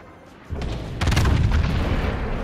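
The main guns of a Royal Navy battlecruiser in the naval combat game World of Warships fire as a deep, rolling boom that rises abruptly and sustains as a heavy rumble, loud and close, with no talking.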